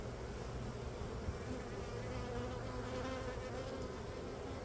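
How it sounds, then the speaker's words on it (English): Agitated honey bees buzzing steadily around their hive after a swarm capture, a dense, continuous close drone with no voices. "I noticed the bees are a little bit more agitated or stirred up or something"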